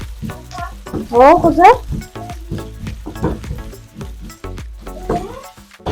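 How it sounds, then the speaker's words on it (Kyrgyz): Onions fry in a pan for a salad, giving a crackling sizzle with stirring scrapes. Someone speaks over it, and a voice rises in a short sing-song cry partway through. "Пиязды кызартып туруп кууруп алабыз"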